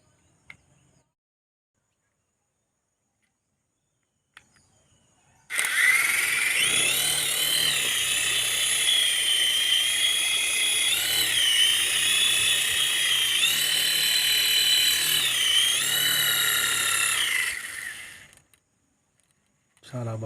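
A toy remote-control helicopter flies nearby, its small rotor giving a loud, steady high whir that starts abruptly and holds for about twelve seconds with slight pitch swells, then cuts off.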